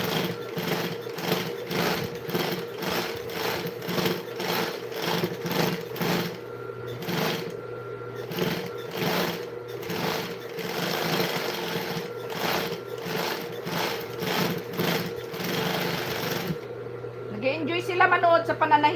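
Rapid, rhythmic clatter of a sewing machine stitching fabric up close, running in bursts with short pauses, while a person talks intermittently in the background.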